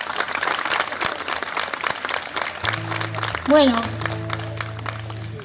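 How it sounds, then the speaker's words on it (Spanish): Audience applause at a live folk music show fills the first half, dense and close, then fades as sustained musical tones take over; someone speaks briefly. "pido un fuerte aplauso"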